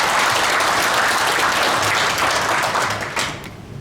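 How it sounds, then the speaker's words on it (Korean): Audience at a Buddhist forum giving a big round of applause, a loud dense wash of clapping that holds steady and then thins and fades toward the end. "다 함께 큰 박수 부탁드립니다."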